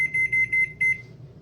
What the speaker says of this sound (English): Alright, gonna preheat the stove.